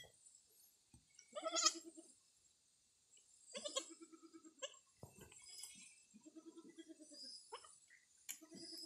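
Goats bleating in a farm herd, one a nanny that has just given birth, several wavering bleats coming in bursts at close range with faint clinks between them.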